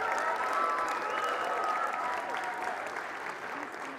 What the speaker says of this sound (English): clap it up for them, you guys.